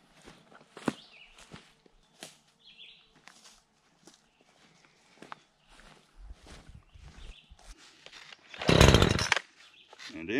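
An entry-level chainsaw cuts wood with a faint motor whine under scattered knocks and crunches, then makes a short, loud, harsh burst of cutting near the end.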